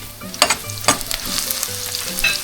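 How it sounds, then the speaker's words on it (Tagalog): Garlic sizzles and fries in a pan as pork liver is prepared, a steady close sizzle broken by a few sharp stirring scrapes of a utensil against the pan. "ay magigisa na tayo dito para naman doon sa pork liver"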